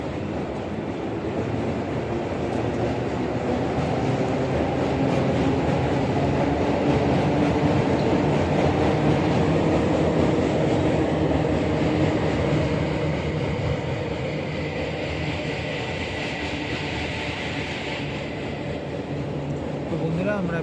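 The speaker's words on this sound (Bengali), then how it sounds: "ব্রিজের উপর দিয়ে ট্রেন যাচ্ছে" A train rumbles across a railway bridge with a continuous heavy rolling roar and rhythmic wheel clatter, heard from nearby for a long stretch, with faint voices in the background.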